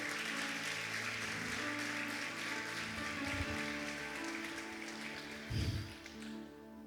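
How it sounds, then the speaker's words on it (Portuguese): A church congregation applauds during a sermon, a faint steady patter of many hands that fades slightly toward the end. "Pode aplaudir a palavra do Senhor?"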